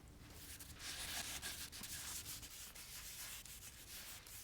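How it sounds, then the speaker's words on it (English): Hand-buffing a wood finish of Watco Butcher Block stain and oil with 400 grit sandpaper between coats, a close, steady scratchy rubbing made of quick repeated back-and-forth strokes with no talk. "You buff it out with 400 grit sandpaper in between coats."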